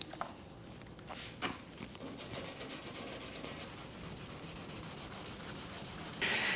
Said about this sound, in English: I'm gonna start feathering these in by wet sanding with 600